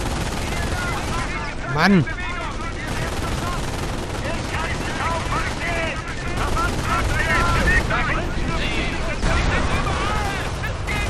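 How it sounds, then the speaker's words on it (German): Gunfire shells a base in the video game Company of Heroes: Tales of Valor, with rapid bursts and heavy impacts filling the scene while excited voices talk over the battle. "Der Stützpunkt wird beschossen."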